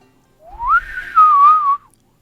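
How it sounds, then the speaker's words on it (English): A single wavering whistle, rising then gliding along a steady pitch for about a second and a half, clear against near silence. "It sounds like a very, very distinct whistling sound"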